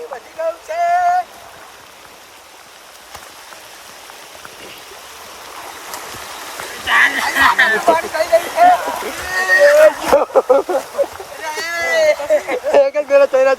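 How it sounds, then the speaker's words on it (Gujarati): Strong rushing floodwater after heavy rain in a village, pouring through a channel with a steady broadband roar; people talk over it throughout, louder toward the end. "પાણીનો પ્રવાહ એટલો બધો છે ને કે આરે તણાતા જાય"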